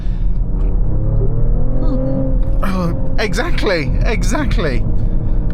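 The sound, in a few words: BMW X5 50e hybrid SUV accelerating hard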